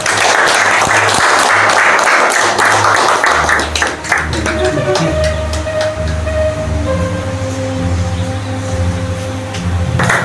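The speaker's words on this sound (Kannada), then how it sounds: "ಚಪ್ಪಾಳೆ." Loud, dense applause from a crowd at a farmers' and workers' union branch inauguration in Ilkal, Karnataka, thinning after a few seconds as a steady rumbling, droning background takes over.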